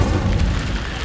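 A fire spell is cast in the Hogwarts Legacy video game: a loud, continuous roaring burst with a deep boom, sustained for about a second with no gaps.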